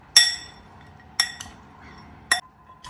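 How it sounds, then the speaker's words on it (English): Salad with red pepper, green onions and chopped nuts is stirred, giving three or four sharp clinks of utensil on a bowl spaced apart against quiet. "Let's add our green onions and our chopped nuts. Let's give it another stir."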